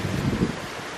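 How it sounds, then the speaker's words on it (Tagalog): Strong gusts blow across an outdoor home vegetable garden, buffeting the microphone with a rough, rushing roar and faint rustling of leaves, steady and close with no voices. "Sobrang hangin, guys."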